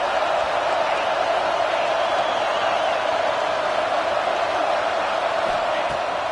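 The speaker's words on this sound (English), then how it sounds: "Listen to this crowd just shaking the girders of this place, trying to help their defense." A football stadium crowd at a Gators vs Alabama game roars in a dense, continuous wall of noise that holds steady throughout the clip, with no clear voices standing out.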